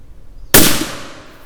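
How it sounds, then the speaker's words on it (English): One sharp, loud report from a suppressed .280 Ackley hunting rifle fired at a shooting range off a front rest, with a short decaying tail and no speech. "Boy, the recoil on this gun is so mild, especially with the suppressor on it."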